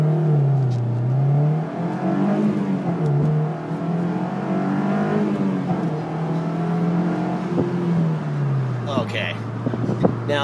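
A 2008 Honda S2000 CR engine revs hard as the car launches and pulls through the gears, its pitch rising and dropping with each shift, heard from inside the cabin with someone speaking over it.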